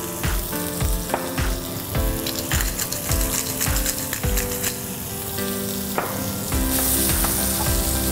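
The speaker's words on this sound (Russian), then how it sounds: "Приступаем к жарке нашей рыбки и нашего гарнира. Жарить мы также будем на оливковом масле." Fish fillet fries in olive oil in a hot pan, giving a constant close sizzle throughout, broken by a regular series of light clicks and scrapes from stirring or turning, with no voices.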